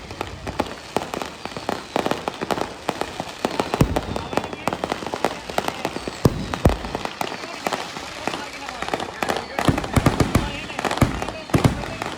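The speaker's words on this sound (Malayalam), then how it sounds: "വെടിക്കെട്ടിൻ്റെ ഒരു എഫക്റ്റ് ഭയങ്കര രസമായിരുന്നു കേട്ടോ കാണാൻ" Church festival fireworks display going off in a rapid, dense barrage of sharp bangs and crackles, loud and continuous across the whole stretch, with some voices faintly mixed underneath.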